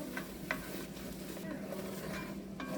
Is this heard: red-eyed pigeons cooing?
no